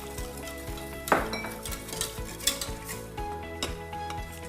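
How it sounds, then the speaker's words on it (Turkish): Corn soup stirred in a pot, with a spoon scraping and clinking against the metal over a faint bubbling simmer, close and without talking. "Ara ara karıştıralım bu şekilde kıvamını alabilmesi için."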